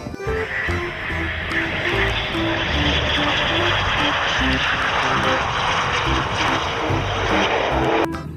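Fighter jet sound effect for a toy plane, a loud sustained aircraft engine roar that holds steady for several seconds before cutting off abruptly at the end.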